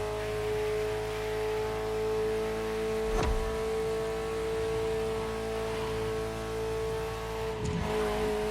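A Ferrari F40 engine in The Crew Motorfest holds a steady, droning idle hum throughout, with two brief sharp transient blips standing out against the constant tone.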